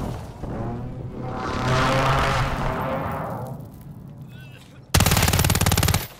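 Video game gunshots in a solo match: a muffled roar and rumbling blast build and fade, then a sharp loud burst of rapid automatic fire erupts near the end.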